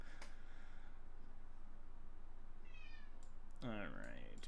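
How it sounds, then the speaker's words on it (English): A pet cat locked out of the room gives a drawn-out meow that rises and falls near the end, over a low steady hum, after a brief faint chirp; a quieter earlier cry is barely audible. "that is my cat meowing because she's locked out."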